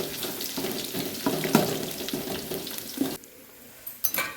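Peanuts and garlic frying in hot oil make a steady, close broadband sizzle with a few stirring scrapes. The sizzle drops away abruptly near the end, followed by a couple of brief utensil clatters.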